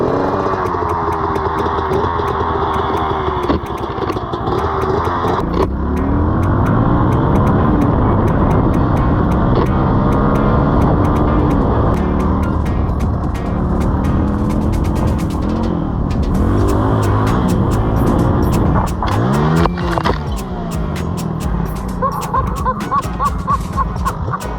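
A Suzuki DR200 four-stroke dirt bike buzzes along trails, its single-cylinder engine revving up and down continuously with rising and falling pitch, close and loud, with wind buffeting and clattering bumps from the rough ground.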